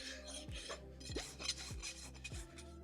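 A farrier's rasp files a horse's hoof during a barefoot trim, giving steady rhythmic rasping strokes about every half second, close and continuous with no talk.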